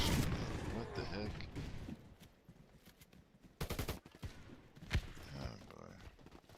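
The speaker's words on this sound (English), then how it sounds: "That was a team member shooting me." A teammate fires a gun at the player in a video game, with a few sharp, fairly quiet shots and short bursts scattered among background game noise.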